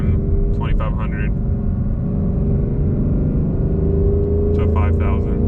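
A 2020 Mustang GT running a 91 octane tune holds a steady, loud engine drone in third gear, with a low rumble throughout and someone speaking briefly over it.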